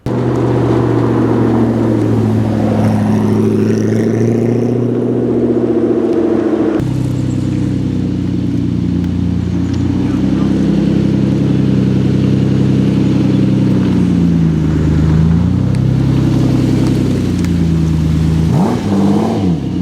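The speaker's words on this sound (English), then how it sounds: "there are cars driving around as I'm talking right now" Cars and engines on a side street during Monterey Car Week, a continuous close engine rumble with revving and passing vehicles throughout, no talking.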